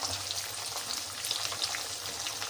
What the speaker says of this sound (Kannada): ಜೀರಿಗೆ ಸ್ವಲ್ಪ ಹಾಕ್ಕೊಳ್ತಾ ಇದ್ದೀನಿ